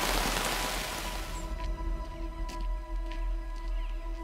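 Rain falling on a tent during a wet morning on the Pennine Way near Malham, a loud dense patter that gives way to scattered drips over a steady low drone, no talk.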